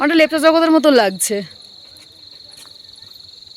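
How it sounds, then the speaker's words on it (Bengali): Crickets chirp in a steady, even pulse in a pine forest near a lake, continuing alone after someone speaks briefly at the start. "এই ঝিঝির ডাকটা এত ভালো লাগে শুনতে"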